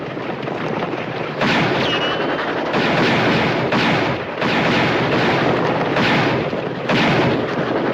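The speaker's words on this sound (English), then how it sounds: "Aim for her passenger. If you can't hit the passenger, put your bullets into her boiler." Gunfire during a wild west chase, with shots aimed at a passenger and a boiler: repeated loud blasts land roughly every second over a constant rumbling, rushing background.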